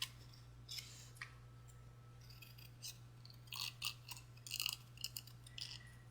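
Scissors snip through paper card pieces in short, faint bursts of clicks and crisp cuts, irregularly spaced over a low steady hum.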